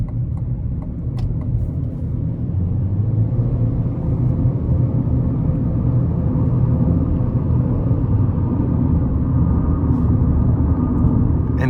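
A 2025 Chevrolet Equinox LT with the 1.5 turbo pulls hard at full throttle, a loud, steady engine drone and road rumble heard from inside the cabin, holding strong without pause.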